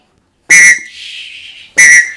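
A loud, shrill whistle blast, then a softer fading tone, then another sharp blast, all very close.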